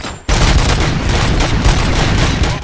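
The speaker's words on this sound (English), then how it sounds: "Gunshots? What's going on?" Rapid bursts of gunfire in the RoboCop: Rogue City video game erupt suddenly after a brief quiet moment, loud and sustained with overlapping booming shots.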